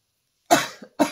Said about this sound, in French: excusez si je tousse